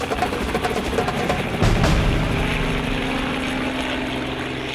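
A helicopter flies overhead during a rhino's veterinary treatment in the African bush, its engine and rotors a loud, steady roar that swells briefly partway through, with no voices.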